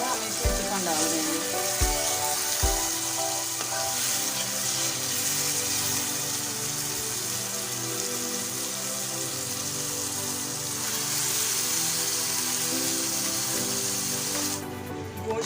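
Chicken frying in a pan with chopped green chilies and spoonfuls of yogurt, a loud continuous hiss and sizzle with a few sharp clatters at the start and a brighter burst near the end.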